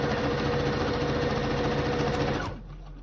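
A sewing machine runs steadily, stitching a seam in fabric for a round floor cushion with a continuous rapid whirring hum, close and clear, then stops abruptly near the end.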